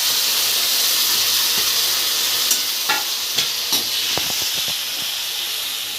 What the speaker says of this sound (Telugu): ఉల్లిపాయ వేగిందండి, టమాటా వేసుకుంటున్నాను నేను